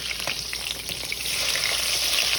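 Burgers sizzling in a hot pan just after being flipped, a loud, steady close-up frying hiss that holds constant and swells slightly toward the end.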